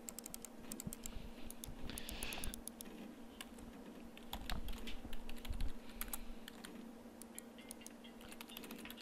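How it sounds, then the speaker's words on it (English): Computer keyboard typing inside the video game Everlasting Summer, a steady run of quiet clicking keystrokes over a low background hum, with no voices. "Oh, look, a keyboard."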